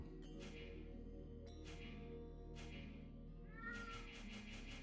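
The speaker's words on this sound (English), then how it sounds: "My cat is making noise." A pet cat meows several times in drawn-out, plaintive calls over a low steady hum, fairly close and alone, with no speech.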